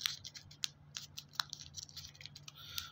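Paper being folded into an amulet: crisp, close crinkles and soft taps in short irregular bursts, quiet and without voices, over a faint steady hum.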